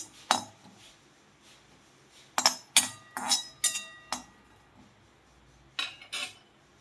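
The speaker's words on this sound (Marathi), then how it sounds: "आता आपण लसूण थोडासा भाजून घेणार आहे बघा." Garlic cloves being dry-roasted in a pan while making a spicy niger-seed chutney: bright metallic clinks and scrapes of a utensil against the pan, one early hit, a quick cluster in the middle and a pair near the end.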